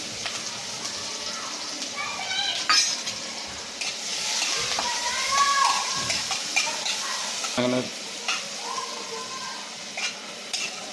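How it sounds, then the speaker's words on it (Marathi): Chopped onion and green chili sauté in hot oil in a pan, giving a steady close sizzle with occasional stirring scrapes. A voice talks over the cooking. "आता हा कांदा आणि मिरची ह्यात परतून घेणार आहे"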